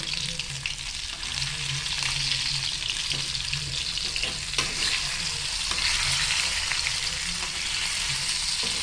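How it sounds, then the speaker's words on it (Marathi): Steady, dense sizzling of mackerel frying in hot oil, close and continuous with no pauses. "इथे आता आपण फ्राय करून घेतो"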